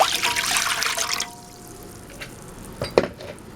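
Water pours into a pot for ham and potato soup, a bright continuous splashing stream that stops after about a second, followed by a few light drips and clinks.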